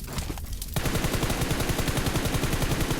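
Rapid automatic gunfire in the mobile shooter PUBG Mobile, a few shots followed by a sustained fast burst of loud, evenly spaced rounds.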